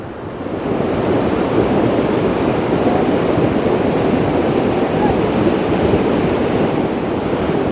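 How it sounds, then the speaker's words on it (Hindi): A dangerous flood torrent in Bagh, Azad Kashmir rushes beneath a long bridge, producing a loud, dense, continuous roar of churning water that swells in over the first second and then holds steady, with wind buffeting the microphone. "इसके नीचे से गुजरने वाली तुगयानी आप देखिए कितनी ख़तरनाक किस्म की तुगयानी है।"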